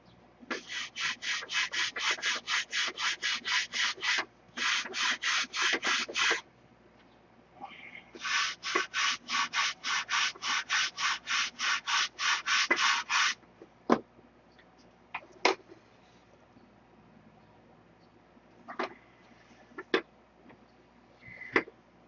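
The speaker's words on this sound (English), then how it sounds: "We're going to need a little more sanding right here on the end." Rapid, rhythmic back-and-forth strokes of sandpaper on wood in bursts, pausing briefly, followed by scattered knocks and taps.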